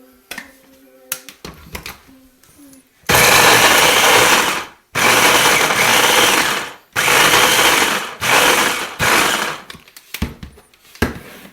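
An electric chopper whirs in loud, steady bursts as it chops half a red pepper, half a yellow pepper and parsley for king crab cakes, with several long runs separated by short pauses and quieter handling noise at the start.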